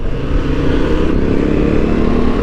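A KTM 1290 motorcycle riding along a road, its engine droning loudly and steadily from up close with constant wind rush, without any speech.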